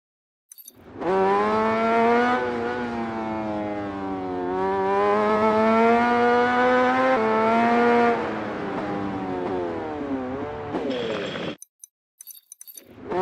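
A motorcycle engine in the MotoGP20 racing game at Laguna Seca screams at high revs, bouncing off the rev limiter for about ten seconds in a loud, sustained whine before cutting out abruptly.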